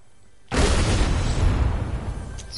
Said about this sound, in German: Was für eine scheiß Kanone.